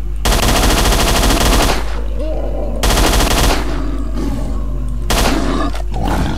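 Armor-piercing rounds from a machine gun in S.T.A.L.K.E.R., fired in three long, loud, rapid sustained bursts with short gaps between them, close and dominant.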